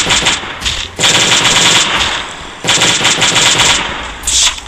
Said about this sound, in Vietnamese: Chúng ta cứ vừa chạy vừa bắn các bạn.